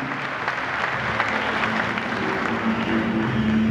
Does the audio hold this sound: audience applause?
yes